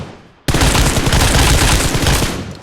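Rapid automatic gunfire erupts in the BGMI battle royale game after a brief quiet moment, a dense, loud continuous burst lasting over two seconds.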